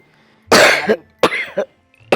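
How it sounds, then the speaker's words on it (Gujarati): An elderly woman coughs in two harsh, close bursts with a short third cough after a pause, loud and clear with no talking over them. "તમને કેટલી ખાંસી છે"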